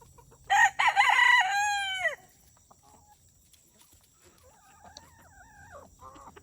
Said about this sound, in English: As you all know, Henrietta is my broody hen, and she is sitting on 3 eggs